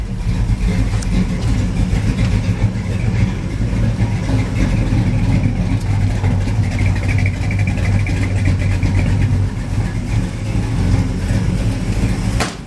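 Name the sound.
Chevrolet S10 pickup engine idling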